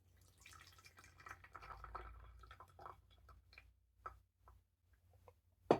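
Baozhong oolong tea is poured in a quiet, close trickle, then thins into scattered soft drips and taps that fade to near silence.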